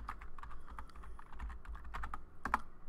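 Commands being typed into a Cisco Catalyst 2960 switch console on a computer keyboard, a quick irregular run of soft clicking keystrokes with a few sharper taps, close and alone.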